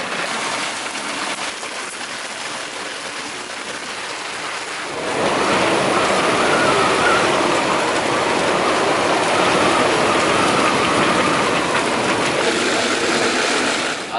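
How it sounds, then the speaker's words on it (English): Heavy storm rain and gusting 48-knot wind hammer a moored sailboat, starting as a steady hiss and surging into a much louder, dense roar of wind-driven rain about five seconds in, with no voices. "Here comes the storm. 48 knots of wind, tons of rain"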